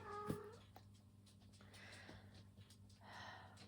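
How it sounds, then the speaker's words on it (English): Pet cats give a faint meow and some soft snorting or purring murmurs, close but quiet, over a low steady background hum. "cats."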